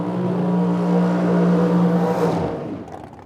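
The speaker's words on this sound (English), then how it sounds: "Next pair now got the burnouts done." Drag racing engines at a summer drag meet in Medicine Hat, Alberta, roaring loud and steady with a strong low drone during burnouts, then dropping away and fading out near the end.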